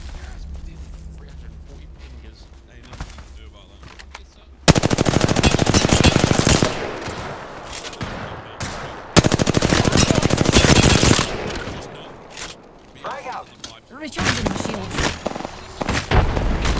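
Video game gunfire from Apex Legends crackles in bursts. Lighter shots come first, then two long, loud automatic volleys, then scattered shots and impacts toward the end.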